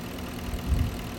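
Porsche Cayenne engine idling, a low steady rumble with a slight swell partway through, heard briefly and without talk.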